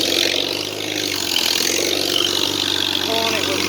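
A Farmall C tractor in third gear at light throttle pulls an Oliver 2-12 Plowmaster 100 plow through a field, its engine a steady, loud drone that never lets up, with a little background noise and a brief faint tone near the end.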